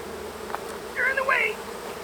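Steady buzzing of honeybees close by during honey pulling from hives, a low drone with a sharper whine swelling briefly as one passes near.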